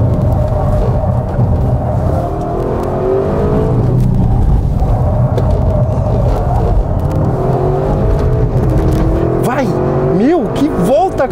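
An Audi RS6 Performance wagon driven on a fast lap, engine rumbling and rising steadily throughout with sweeping rev changes near the end, under excited talk inside the car.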